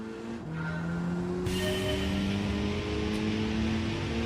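Car braking with tires squealing and skidding in the Gran Turismo 7 racing game, a sustained tonal screech with engine hum, rising in intensity after a second and continuing steadily to the end.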